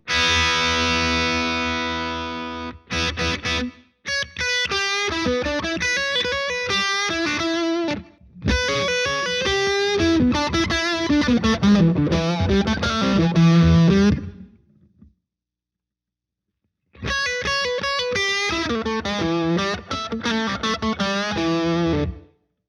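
Electric guitar through a Schwartzinator overdrive pedal playing chords and riffs in several bursts, with gritty distortion, separated by brief pauses.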